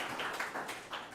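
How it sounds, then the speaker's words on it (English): Scattered audience clapping at a small live event, a handful of people applauding in brief uneven bursts, fairly faint and a little distant. "that clapping is for all of you"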